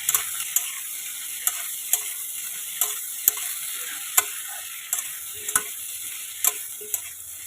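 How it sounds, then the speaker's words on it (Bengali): Okra with salt and turmeric fries in a pan, a soft constant sizzle punctuated by regular, crisp clicks and taps of a spatula stirring every half second or so, near and clear. "ভেন্ডিটাকে কিন্তু লাল লাল করে ভেজে নেব।"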